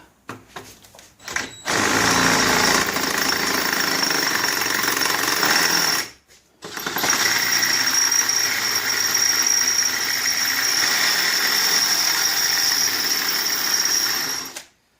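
A power drill boring out a stubborn, hard bolt on the head of a Honda EM650 generator, grinding and squealing loudly and steadily in two long bursts separated by a brief pause.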